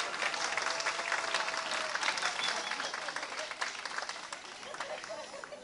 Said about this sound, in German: Und euer Beifall zeigt, dass unsere Entscheidung richtig war.